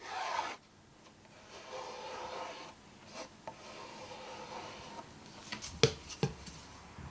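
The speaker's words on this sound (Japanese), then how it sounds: "麻布をかぶせ、上からものり漆をすり込んでいきます。" Glue lacquer is rubbed by hand into hemp cloth laid over the glued board joints of a wooden bowl, a Kyoto urushi lacquerware reinforcing step. A soft, steady rasping rub runs throughout, with a few sharper scrapes and taps near the end.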